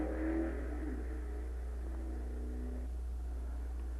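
A 1956 B Street Roadster drag car making a record run at the NHRA National Championship Drags in Kansas City, its engine revving and fading into the distance over a heavy low hum of old film sound, no talking.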